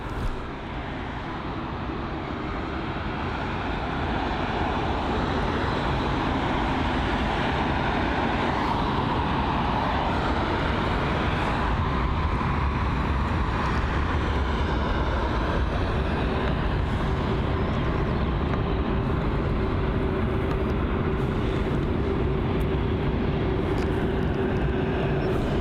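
A jet airliner taxis slowly at London Heathrow, a steady broadband engine rumble and whine holding fairly loud and unbroken for the whole stretch, with faint background hum and no talk.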